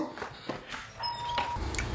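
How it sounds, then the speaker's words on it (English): A doorbell rings once with a bright electronic chime, fairly close, over faint room noise and a low background hum. "Doorbell!"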